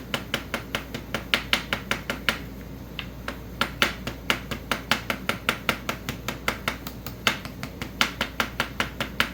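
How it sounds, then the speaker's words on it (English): A hammer strikes an edge again and again to make a hole, sharp close impacts repeating in a fairly steady rhythm of roughly three or four blows per second with no talk. "you're just trying to connect the hammer with the edge of the hole that you're trying to make"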